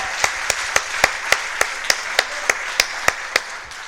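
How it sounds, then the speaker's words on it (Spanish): A church congregation gives applause as a slow, steady series of sharp, evenly spaced claps, about one every quarter second, with no talk. "Démosle un aplauso."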